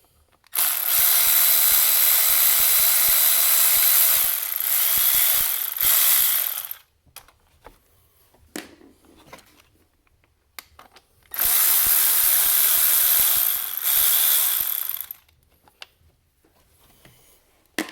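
A ratchet wrench turning a deep well socket on a short extension while removing a vacuum pump from a VW ALH TDI engine, with two long bursts of rapid, loud, close clicking separated by a few seconds of quieter handling noises.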